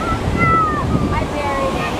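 Ocean waves wash up onto a beach, close and loud, in a continuous rushing surf with wind buffeting the microphone. Faint voices sound in the background.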